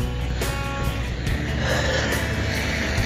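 A car passes along a snowy street in Belleville, Ontario, a steady broadband road and engine rumble holding throughout with no talk over it.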